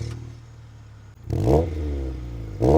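A 1998 Acura fitted with a Revel Medallion Touring-S catback exhaust idles with a low steady rumble, then revs twice, swelling into a loud, deep, rising throaty roar close to the microphone.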